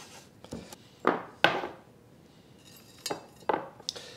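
A knife roughly dices cooked, frozen bacon on a wooden cutting board, giving about eight separate crisp chops and taps at uneven intervals, close and fairly quiet, with no talking.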